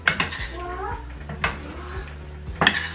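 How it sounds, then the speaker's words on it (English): Spanish sardines pasta being mixed in a pan at home, with clattering utensil scrapes and knocks against the metal in short bursts, mixed with a voice and a cat-like meow in the background. "Mix na natin."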